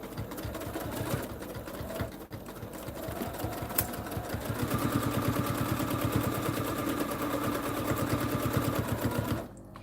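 A sewing machine stitches through several layers of fabric for a lace-zippered project pouch, a loud rapid mechanical chatter that starts, briefly stalls, then runs steadily faster and stops near the end, with no talking.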